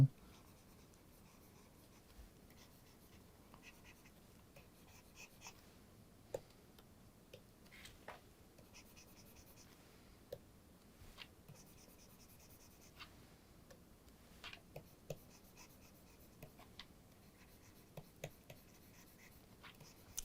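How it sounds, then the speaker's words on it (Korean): Quiet scratchy strokes of a drawing tool coloring a portrait on paper, irregular short rubbing and tapping sounds in a calm room, close and faint. "자, 이렇게 대략적인 이제 그 색깔을 칠해 보도록 합니다."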